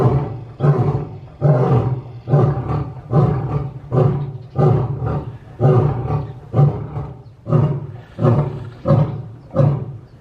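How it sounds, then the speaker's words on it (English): A male lion roars at Como Park Zoo in St. Paul in winter, a loud, close series of about ten deep rhythmic grunting roars at steady intervals, each swelling and fading in turn. "that was neat to hear him roar"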